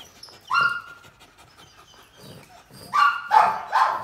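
A small hound of about 7 kg, hauling a heavy iron chain of about 40 kg, makes a short high whine, then quiet breathing, then several loud huffing, panting bursts near the end, close by.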